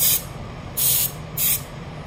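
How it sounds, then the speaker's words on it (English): Can of compressed air blasting debris off a comic book before pressing: three short, sharp hissing bursts in quick succession, loud and close. "I get a little can of compressed air and I shoot it."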